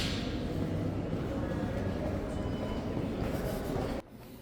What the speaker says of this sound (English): I'll be boarding a pink or one-line train for 2 stops to Balderas